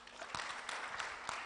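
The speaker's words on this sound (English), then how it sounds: "I think she deserves a round of applause." Audience at a cocoa industry summit applauding, a steady, fairly faint patter of many hands clapping together throughout, with a few sharper claps standing out.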